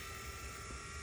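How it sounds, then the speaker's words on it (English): The small propellers of a V995 mini drone give off a steady, continuous whirring buzz in flight outdoors, with a faint low pulsing underneath and no voices. "I'm looking at the back of the mini drone."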